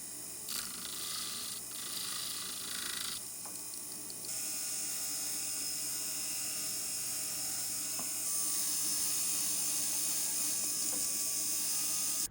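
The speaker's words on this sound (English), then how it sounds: "We're going to be doing some initial cleanup by sanding and polishing it." A small rotary tool whines steadily at a high pitch, its tone shifting as it sands and polishes platinum stud earrings, with no voices.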